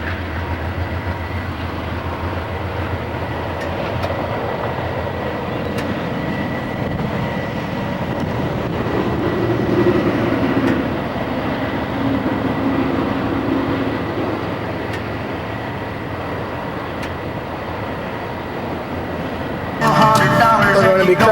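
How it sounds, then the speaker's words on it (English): A train rumbles past steadily below, a continuous low roar with faint rhythmic clatter of wheels on the rails, no talking. "I can hear the train going by down there"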